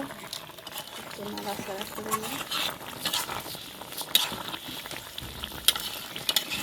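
Spices frying in oil with a silver carp curry alongside potato and eggplant, a steady close sizzle and bubbling with stirring scrapes, while a voice talks over it.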